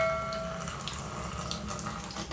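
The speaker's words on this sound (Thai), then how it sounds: "เปิดวาล์วนะครับ น้ำไหลปกตินะครับ" Water running from a repaired, previously dripping faucet after its valve is opened, a steady splashing stream at moderate level with a brief faint whine at the start, no talk.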